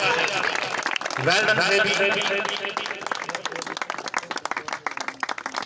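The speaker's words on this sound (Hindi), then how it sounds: "जोरदार तालियां बजा रहे हैं।" A cricket tournament crowd applauds the best bowler, their scattered clapping building and carrying on under an announcer's voice, with the claps growing sharper and more distinct toward the end.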